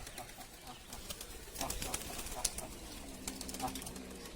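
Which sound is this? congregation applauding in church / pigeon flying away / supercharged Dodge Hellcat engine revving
pigeon flying away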